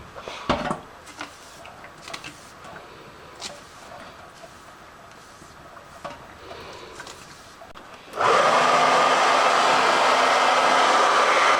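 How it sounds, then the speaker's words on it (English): A hair dryer on its cold setting switches on abruptly and blows with a loud, steady whir, drying a doll's hair, preceded by faint clattering and handling noises. "I will put the hair dryer on the cold setting only and blow all the water out"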